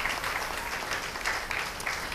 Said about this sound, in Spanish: damos un aplauso al Eterno por la Torá